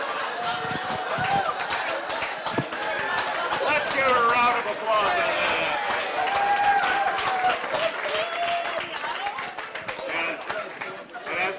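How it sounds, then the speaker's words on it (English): A bar crowd at a trivia night during an ice festival gives a steady, full round of applause, with chatter and voices mixed throughout. "Let's give a round of applause on that."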